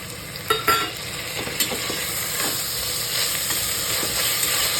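Tomatoes sauté in a hot pan for soybean pulao, a steady broadband sizzle with a few scraping stirs near the start, close and continuous with no talking.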